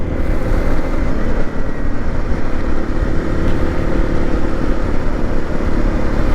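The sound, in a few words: Honda CRF 300 Rally motorcycle riding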